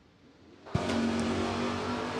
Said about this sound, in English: 642 going to be the dial in for the Chevelle of Dayton, and Lindsey back alongside, 628 the dial for Blazer